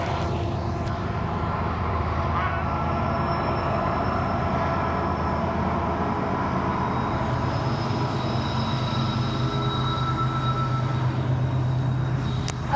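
A loud train rolls past near the Cesar E. Chavez National Monument, a steady heavy rumble of rail cars with wheel squeal, continuous and close for the whole stretch.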